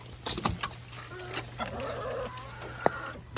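Chickens in a backyard coop cluck and murmur softly at close range, with irregular short calls and one sharper squawk over a low steady background hum.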